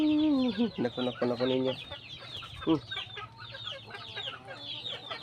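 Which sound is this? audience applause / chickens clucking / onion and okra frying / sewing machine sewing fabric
chickens clucking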